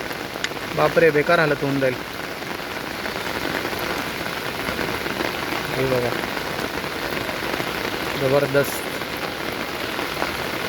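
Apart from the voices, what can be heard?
continuous heavy rain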